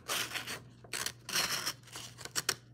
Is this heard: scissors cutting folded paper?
yes